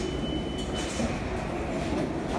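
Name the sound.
subway train arriving at station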